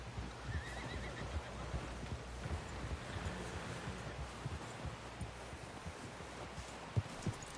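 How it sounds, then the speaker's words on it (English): Outdoors, a horse gives a short whinny amid faint rustling and wind, with scattered soft hoof clops and thuds nearby, all fairly quiet and with no voices. "Someone help John down off this horse"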